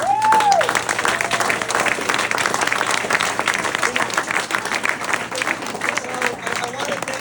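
Dense, loud crowd applause fills an election night victory speech hall, continuous clapping with cheering voices mixed in throughout.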